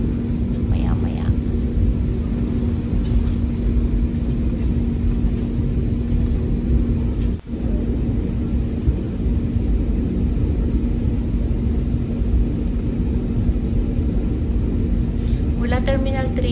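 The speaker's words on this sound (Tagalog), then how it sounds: "pag yan ay naka-ready na yung ating eroplano para lumipad" An airplane preparing to take off at an airport hums as a steady, loud engine drone with a constant low whine throughout, while a person talks quietly close by.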